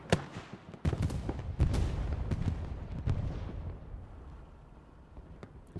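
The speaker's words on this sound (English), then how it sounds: "Explosion happens over to our right behind the hedge" Explosions in the video game Hell Let Loose: a series of sharp booming blasts and cracks, loud and close at first, then fading into distant rumble with no talking.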